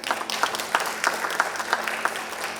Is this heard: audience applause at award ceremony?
yes